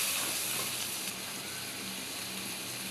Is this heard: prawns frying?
yes